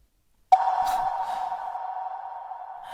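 A phone call's ringing tone sounds in a Chinese short drama: a single steady electronic beep starts abruptly and holds for over two seconds, clear and close with nothing else around it.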